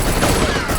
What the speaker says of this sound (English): the sound every gun makes when fired